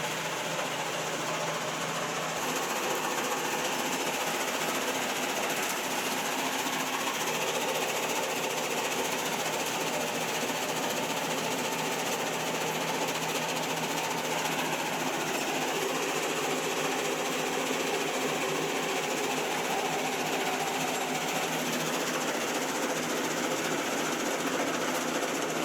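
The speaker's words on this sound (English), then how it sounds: "Combined size sorting machine." A combined size sorting machine for electronic components from e-waste runs loudly and without letup, a dense mechanical rattle and clatter with a steady hum underneath and no voices.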